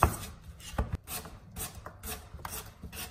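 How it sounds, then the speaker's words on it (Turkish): A knife slices peeled potatoes into thin pieces for homemade Pringles-style chips, a series of rasping, rubbing strokes in an irregular rhythm, close and fairly quiet, with no voices. "Şimdi bunları ince ince doğruyorum."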